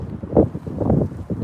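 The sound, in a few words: strong wind blowing outdoors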